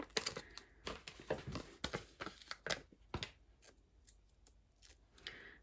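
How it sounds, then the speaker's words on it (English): Scissors snip through card stock during a card-making class with Stampin' Up! supplies, a quick series of crisp, close, quiet cuts in irregular bursts, then a few softer snips and rustles. "I need my scissors to cut some of these because they're a bit long."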